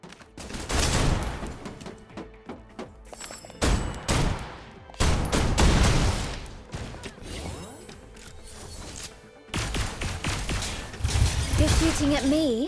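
Enemies firing guns in a video game: repeated loud bursts of gunfire in clusters separated by short gaps, with mechanical clatter and whooshes between volleys.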